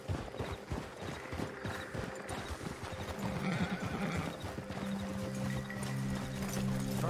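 Horses' hooves clip-clopping and a horse neighing in the Western video game Red Dead Redemption 2, rhythmic hoofbeats at first, then a whinny with a steady tonal hum underneath.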